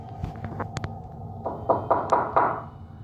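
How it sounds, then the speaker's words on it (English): Eerie knocking from inside a closet in a reported haunting: a few sharp raps early on, then a run of four or five heavier, evenly spaced thuds near the end, close and distinct against a quiet room. "Finally, an eerie knocking sound can be heard emanating from the closet."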